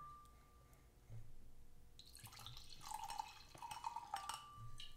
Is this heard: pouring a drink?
yes